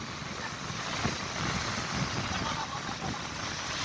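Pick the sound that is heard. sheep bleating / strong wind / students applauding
strong wind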